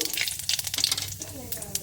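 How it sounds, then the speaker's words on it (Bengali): Cumin seeds crackling in hot oil in a pan while cooking a fish curry with potatoes, a brief burst of sizzling and popping with faint stirring, a voice speaking alongside. "জিরেটা হালকা একটু ভেজে নেবো"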